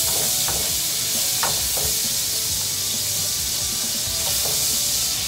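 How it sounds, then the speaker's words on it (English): Vegan Earth Balance butter melts in a hot pan with a continuous close sizzle and hiss, broken by a few faint scraping stirs, and no one speaks. "So we're going to let the butter melt down."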